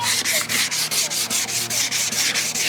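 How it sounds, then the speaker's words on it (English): Rapid rhythmic back-and-forth scrubbing of wet 400 grit sandpaper against a wet car headlight, about five strokes per second, close and steady. "get your 400 grit sandpaper, get the headlight wet, get your sandpaper wet, and then get to sanding"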